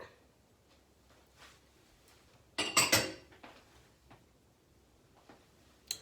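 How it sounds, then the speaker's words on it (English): Flour and baking soda are stirred into vegan peanut butter cookie dough, mostly faint soft scraping with one brief burst of loud clattering against the bowl midway and a final knock. "we are going to stir in our flour and our baking soda"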